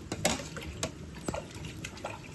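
Water poured into a pot of home-grown Kichili Samba rice during outdoor cooking, coming as a few short splashy gushes and trickles at close range, with no talk over it.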